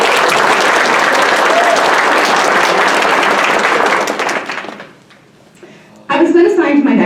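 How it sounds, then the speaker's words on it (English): A high school debate banquet crowd giving a finalist a round of applause, loud dense clapping for about four seconds that fades out, then a voice speaks. "we should all give him a round of applause again for that"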